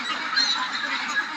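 A flock of Pekin Star 13 ducks, each averaging about 3 kg, kept at a farm in Kaliganj, Gazipur, gives out a dense, continuous chorus of honking quacks. The calls sound close and steady, with no talking over them.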